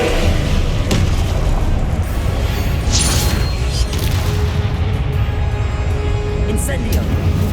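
Confringo, a blasting spell in the Hogwarts Legacy game, goes off as heavy booming explosions with crashing impacts over a loud, continuous wash of combat noise, while a voice is present.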